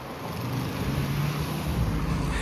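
A car rolls past along a neighborhood street in Mérida's Francisco de Montejo area, a short, moderately close low engine hum and tire rush over faint street background.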